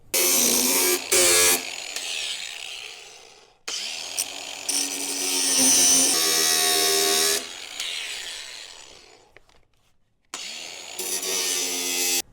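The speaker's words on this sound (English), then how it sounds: "So we'll just probably notch either side of the firewall for these bolt heads to fit." A power tool cuts notches into the sheet-metal firewall of a 1987–96 Dodge Dakota during a brake booster delete. It comes in loud, rasping bursts separated by short silent gaps.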